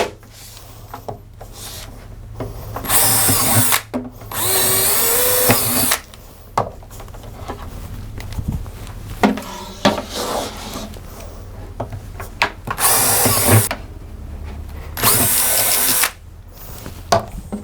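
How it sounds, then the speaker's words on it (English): A power drill with a 5mm bit bores holes through plantation shutter U-channel profiles, several loud bursts of whining drilling separated by pauses and handling noise. "I'm going to use my 5mm drill to put some holes in both the profiles, the top and bottom"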